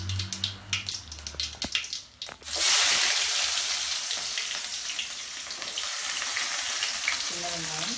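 Small shallots hit hot oil with popped mustard seeds in a pan for dried fish gravy, bursting into a loud, steady sizzle after a few sharp crackles and stirring clatters.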